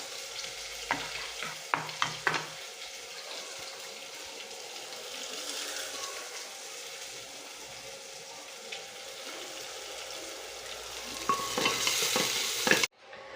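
Onion sautéing in oil for fried dal, a soft crackling sizzle with a few clattering stirs near the start and a louder burst of sizzling toward the end, close and without voices.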